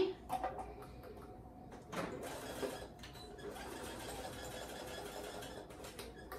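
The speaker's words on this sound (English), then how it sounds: "I'm just going to sew right here." A 53-year-old Elgin sewing machine stitches in quick, close bursts, its needle clattering with brief pauses between runs of sewing at a quiet indoor level.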